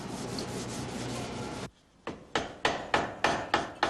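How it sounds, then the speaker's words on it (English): Fret wire of steel, nickel, silver and gold alloy is tapped into a rosewood guitar fretboard. A few crisp, evenly spaced taps come close up after a stretch of steady broadband noise and a short pause. "The fret wire, a steel, nickel, silver and gold alloy, is gently tapped into the rosewood fretboard."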